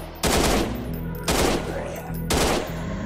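Three loud bursts of M4 rifle fire in a first-person Christmas horror shooter game, each a sharp crack with a long ringing decay, spaced about a second apart over low background music.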